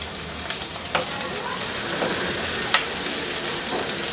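Cherry tomatoes with sliced ginger and garlic frying in a pan, a dense steady sizzle with occasional stirring clicks, close and alone.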